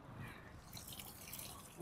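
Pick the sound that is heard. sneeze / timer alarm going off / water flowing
water flowing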